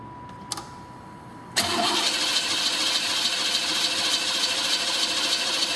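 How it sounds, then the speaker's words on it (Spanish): A 4-cylinder car engine is cranked by its starter without catching, a steady loud churning drone that begins abruptly after a short click and runs on unbroken to the end. "vamos a darle marcha que no arranque el motor y ver el consumo de amperes"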